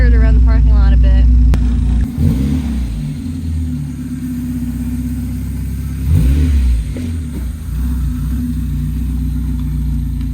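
A Mazda Miata's engine hums and revs as the car circles a parking lot, a close, steady drone with a couple of swells in engine pitch.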